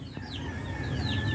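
Loose backyard chickens clucking and calling close by, short overlapping clucks with bird chirps over a steady outdoor hum.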